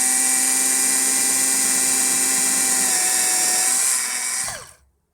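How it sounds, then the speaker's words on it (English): A power drill whirs loudly and steadily for several seconds, then winds down and stops abruptly, leaving silence. "the drilling of the holes"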